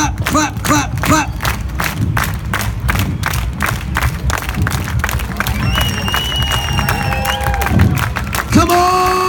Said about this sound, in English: Clap, clap, clap, clap, clap, clap, clap, clap